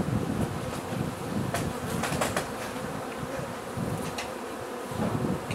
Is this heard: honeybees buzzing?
yes